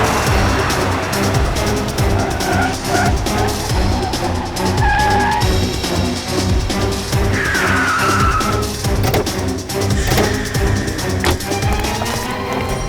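A car overtaking another on the road with tyres skidding, a loud continuous engine roar and screeching tyre squeals close by, with dramatic background music layered over the driving noise.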